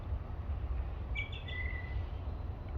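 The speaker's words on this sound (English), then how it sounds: "So many different birds around here." Several birds chirp briefly in short high calls over a steady low rumble of distant traffic or wind, with no one speaking, outdoors in Austin, Texas.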